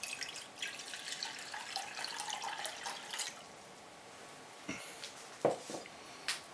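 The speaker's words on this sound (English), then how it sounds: "here I've got 2 cups of cold water right from the tap" Cold tap water poured into a cooking pot, soft splashes and intermittent drips and trickles, faint and close, with a few sharper droplet plinks toward the end.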